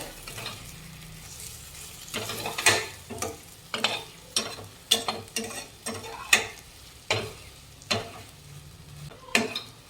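Cooked dal being stirred into a pan of aamti, a spoon scraping and knocking in a steady rhythm of about a dozen strokes over a soft simmering sizzle, close with no voices.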